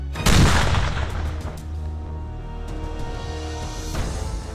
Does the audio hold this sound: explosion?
yes